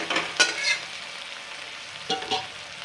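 Green chillies sauté in hot oil in a pan for sabudana khichdi, a soft frying hiss broken by a few brisk stirring scrapes near the start and again later.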